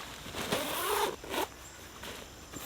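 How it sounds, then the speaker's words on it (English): Two zippers on an ultralight down quilt are pulled up, giving a few quick rasping zips close by in quiet surroundings, with no talking. "you take both zippers and you run them up to the top of the quilt"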